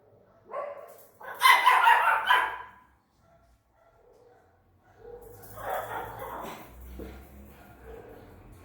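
A dog barks angrily in two loud, rough bursts separated by a quiet pause, close to the listener, with no talking over it.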